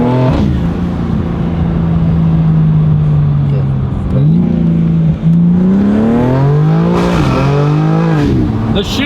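A tuned BMW G82 M4 Competition xDrive accelerates hard, its engine note repeatedly climbing and snapping down through abrupt gear shifts, loud and close, with brief voices in the cabin.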